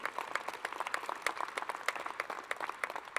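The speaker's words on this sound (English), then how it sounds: "give them a round of applause as well" A small audience at a small-business conference in Savannah, Georgia claps for volunteers: sparse, distinct hand claps in an uneven patter, moderately close, with no talk.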